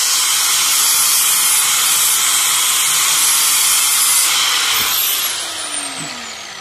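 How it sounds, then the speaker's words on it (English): Steady, loud high-pitched whine and hiss of an angle grinder shaping a hammer's metal, continuous with no talking, easing slightly toward the end. "So I'll use my angle grinder for that."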